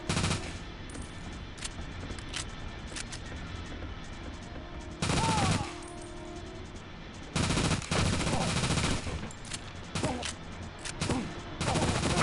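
Gunfire in the N64 shooter 007: The World Is Not Enough, with a steady patter of small shots and several loud, sustained automatic bursts over a constant background.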